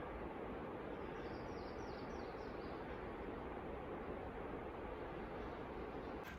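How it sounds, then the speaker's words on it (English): Steady broadband rush of creek water flowing beside a paved trail near the start of the hike to Dukes Creek Falls in Helen, Georgia, continuous and even, heard alone with no talk. "see if you can pick up the sound of water already"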